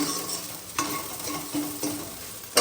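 Masala fries in a pan with a constant soft sizzle, broken by a few sharp stirring scrapes of a utensil against the pan at regular intervals; no talking.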